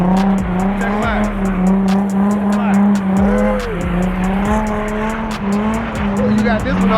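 A Honda car at a car meet roars with a loud, steady revving engine and bursts of tire squeal, close by throughout, with people talking over it.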